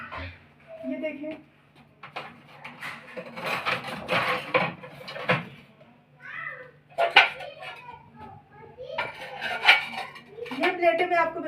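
Ceramic plates clattering and clinking as they are handled and stacked in a small Pakistani home's kitchen, intermittent knocks and rattles mixed with someone talking and a cat meowing.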